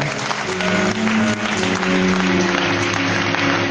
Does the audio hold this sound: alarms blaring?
no